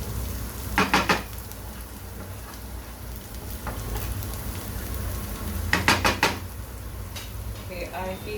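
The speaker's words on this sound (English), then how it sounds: "let it just saute in there for around about a minute" Butter sautéing in a soup pot on a stovetop, giving a low steady sizzle with two louder bursts of crackle and stirring clatter near the start and toward the end.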